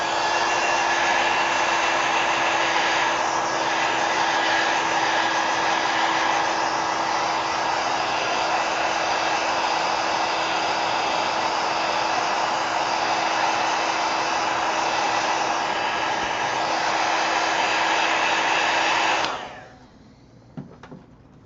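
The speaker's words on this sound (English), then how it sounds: "now let me hit it with the heat gun" A heat gun blows steadily and loudly on a watercolor craft project, a constant whooshing roar with a faint whine that holds for about nineteen seconds before cutting off abruptly into near silence.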